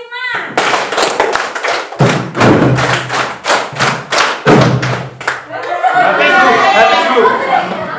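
Schoolchildren in a classroom clap in unison through counted patterns: loud, close, rhythmic groups of claps over about five seconds. Excited chatter and voices from the class follow the claps.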